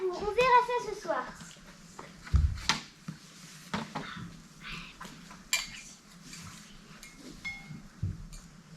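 Dishes and cutlery clink and clatter in short bursts as a dishwasher is emptied at home, sharp knocks scattered among a voice and other talk nearby.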